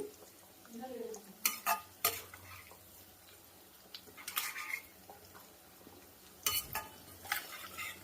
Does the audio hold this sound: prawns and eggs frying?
yes